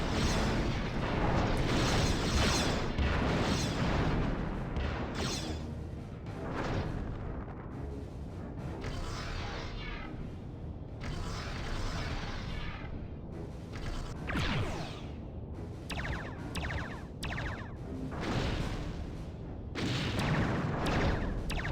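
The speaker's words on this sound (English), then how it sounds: "Okay, so the Enterprise is firing back." Starship weapons fire in a Star Trek Starship Battles video game, a Klingon Bird of Prey trading shots with the Enterprise, with repeated booming blasts and whooshing bursts in irregular succession over a dense, rumbling battle bed.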